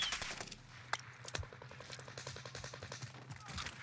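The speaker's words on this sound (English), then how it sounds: "Shooting right at me." Rapid automatic gunfire rattles in Call of Duty Warzone, a steady stream of evenly spaced shots at moderate distance with a few sharper, closer cracks mixed in, running the whole time.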